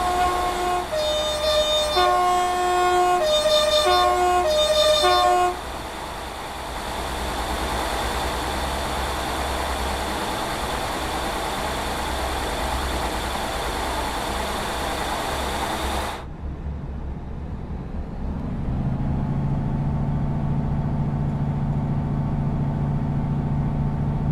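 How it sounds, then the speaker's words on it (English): British Rail Class 158 diesel train with a sound mod in Train Sim World 4, a steady rumbling engine and running noise, preceded by a chime-like electronic tone and followed by a lower idling hum. "the Class 158 has finally got the sound mod back for ETO for Train 714"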